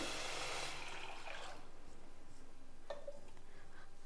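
Water poured over toor dal in a pressure cooker, a soft splashing pour that fades after about a second and a half, followed by faint clinks and drips, quiet and close.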